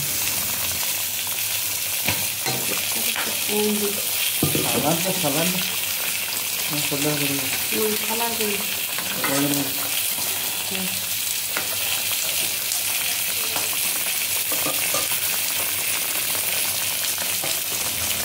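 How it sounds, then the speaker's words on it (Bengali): Mustard paste added to a hot frying pan for mustard hilsa, a loud continuous hiss and sizzle running the whole time while a person talks over it. "এবার সর্ষে বাটা দিয়ে দিচ্ছি দেখুন বন্ধুরা, সর্ষে ইলিশ করার জন্য।"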